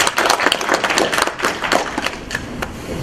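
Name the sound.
audience applause for a speaker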